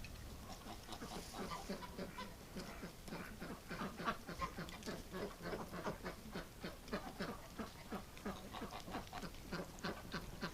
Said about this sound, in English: These ducks quack a lot.